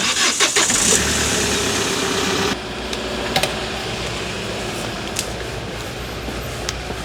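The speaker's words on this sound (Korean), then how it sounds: "이제 새벽에 오면은 일단 무조건 시동 먼저 겁니다" A delivery vehicle's engine cranks and catches at dawn, loud and close, then settles into a steady mid-pitched idle with a few faint clicks and knocks over it.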